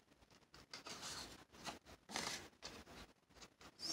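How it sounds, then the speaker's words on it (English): Scissors snip through paper in a quick, uneven series of crisp cuts, close up and fairly quiet, with no voices. "Let me get my other scissors. The rounding scissors."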